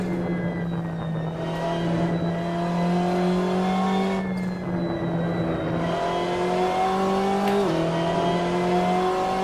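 A BMW M8 GTE race car in the Assetto Corsa game drones loudly and continuously, its engine tone rising gradually as it builds speed out of a corner, with a brief dip near the end.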